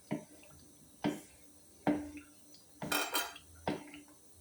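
Bean stew being stirred in a pot, a series of sharp metallic scrapes and clinks of a utensil against the pot, about six separate strokes at irregular intervals, close and distinct with quiet gaps between.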